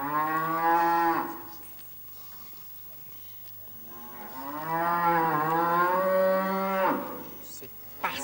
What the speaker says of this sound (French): C'est une vache qui t'a fait peur, Casimir?